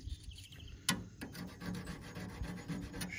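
A hand file rasps in steady, rhythmic strokes across the blade of a tree-shearing knife used for trimming concolor fir Christmas trees. A sharp scrape near the start is followed by repeated close, dry filing passes.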